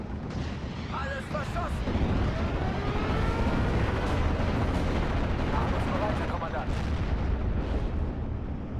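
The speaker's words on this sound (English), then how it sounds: "Get that Nebelwerfer to fire at all this infantry." Nebelwerfer rocket artillery firing in the WWII strategy game Steel Division: Normandy 44 at Carpiquet, a dense, continuous roar of launches, blasts and battle noise filling the whole stretch.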